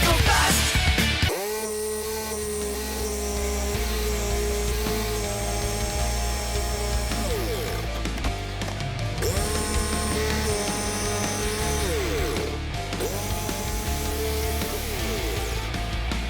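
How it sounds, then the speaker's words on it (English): An oscillating multi-tool saw cuts through a kitchen countertop during a Manhattan demolition job, a loud continuous buzzing whine that dips and shifts in pitch as the blade bites, running almost without pause from close range. "I get to use my oscillating saw from the last video."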